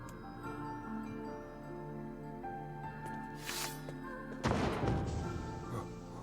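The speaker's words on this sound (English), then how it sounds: "what was that sound just now? It sounded like a cannon" A deep cannon-like boom crashes from the floor above in NieR Replicant, a sudden loud broadband hit about two-thirds through, rising over a steady background of game music and ambience.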